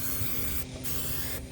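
Spray adhesive hisses steadily onto Velcro for a boat seat, a close, loud aerosol blast that cuts out briefly once midway and then resumes.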